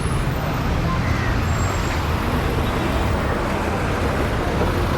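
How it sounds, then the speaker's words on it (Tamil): Traffic rumbles at a busy government-owned bus station in Colombo, with a dense, steady wash of engine noise and road hum, and buses idling and moving close by. "இதுதான் பஸ் ஸ்டாண்ட்."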